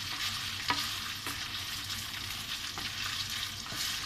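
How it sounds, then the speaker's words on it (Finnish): Meat simmering with a little added liquid in a frying pan for a Finnish pork gravy, giving a soft, even bubbling sizzle with a few faint scrapes of stirring. "Heitän nämä lihat sinne ja lisään vähän nestettä ja annan siinä pikkuhiljaa porpotella."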